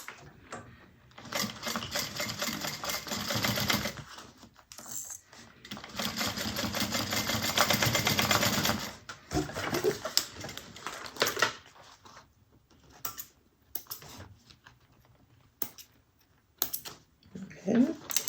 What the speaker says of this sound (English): we're going to sew across this bottom at 1/4 inch